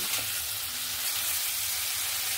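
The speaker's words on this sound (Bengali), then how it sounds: "যেহেতু সেদ্ধের সময় আমি দিয়েছিলাম, তাহলে ভেজে নেব" Boiled jackfruit and shrimp frying in a pan, giving a steady, close sizzle with fine crackling that stays even and continuous throughout, with no talking.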